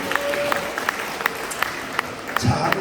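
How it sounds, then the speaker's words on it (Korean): Scattered applause follows Dr. Lee Chung-gon's arrival, a thin, moderate patter with a few sharp, distinct claps standing out at an irregular rhythm, while a voice speaks faintly underneath. "박수요, 박수!"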